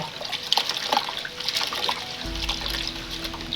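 Potatoes being washed in water to rinse off their starchy sap, with splashing and trickling, then a steadier low rush of water filling in toward the end.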